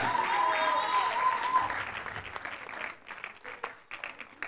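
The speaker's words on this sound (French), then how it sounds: "On applaudit encore très fort pour elle." Audience applause at a Miss Rondes et Jolies beauty pageant in Gabon, strong clapping over lingering music at first, then thinning into scattered, fading claps over several seconds.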